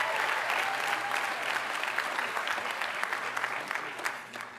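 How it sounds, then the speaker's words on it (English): Graduates at a Black graduation ceremony applaud themselves, a continuous wash of dense clapping from a large crowd, steady and full before easing slightly toward the end. "Give yourselves a round of applause"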